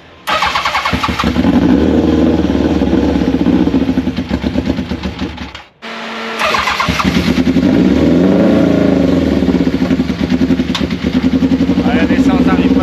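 A Yamaha FZR motorcycle engine runs loud and close, idling roughly with uneven revs; it cuts out briefly midway, then restarts and keeps chugging while someone talks.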